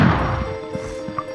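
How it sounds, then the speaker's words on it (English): A club smashes a barrel in MediEvil, one sharp, loud crash at the start that trails off into a faint ringing tail and a few light knocks. "This club is specifically for smashing a barrel"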